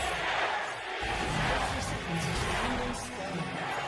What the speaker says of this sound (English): Crowd seems quite competitive right now.